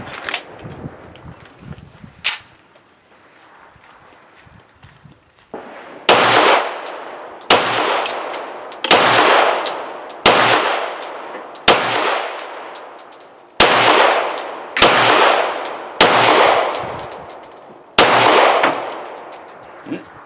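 A G-Force Chronicle 1911 pistol in 9mm fires a fresh magazine outdoors: roughly ten loud, sharp reports at a steady pace of about one per second, each ringing out briefly, with faint metallic clinks in the quiet gaps.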